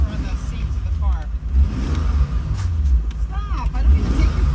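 A Toyota Supra Turbo drives through the gears, its engine rising and falling with the shifts as people talk inside the car over the drone.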